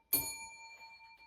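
A single bell strikes once with a sharp onset, its bright metallic tone ringing on and slowly fading, loud and close with nothing else around it.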